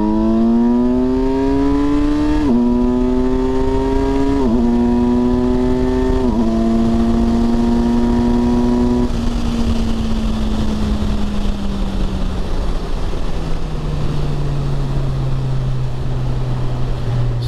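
2021 Kawasaki Versys 1000 LT SE+ motorcycle accelerating hard uphill on a closed course, engine pulling loud and near through four rising gear shifts before easing off and fading lower, no talk.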